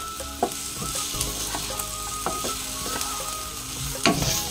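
Food sizzles and fries steadily in ghee in a pan for a Maharashtrian breakfast dish, with occasional sharp stirring clinks and scrapes over the continuous hiss, close and fairly loud.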